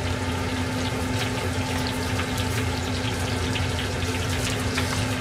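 Chicken cutlets frying in a frying pan make a steady, dense sizzle and crackle with a constant hum underneath, heard close up for several seconds with no one talking.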